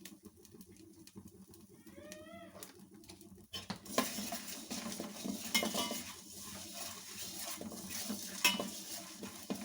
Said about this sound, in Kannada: ಧನಿಯಾ ಸ್ವಲ್ಪ ಹಾಗೆ ಫ್ರೈ ಆಗಲಿ